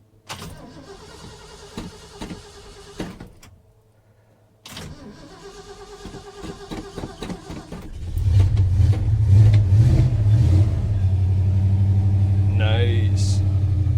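Cold start of a 1978 Ford F-250 engine: the starter cranks in bursts with a pause between, then the engine catches and settles into a loud, steady rumbling idle with a brief rev, under short bits of talk.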